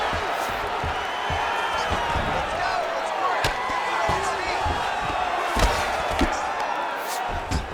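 A crowd at an MMA fight reacts with a sustained roar and murmur that swells now and then, broken by a few sharp thuds, while a voice talks faintly underneath.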